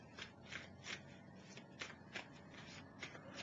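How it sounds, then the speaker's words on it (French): Playing cards for the Pandemic Reign of Cthulhu board game are shuffled by hand, a series of quiet, close riffling and slapping bursts at an irregular rhythm. "Et là je remélange les cartes."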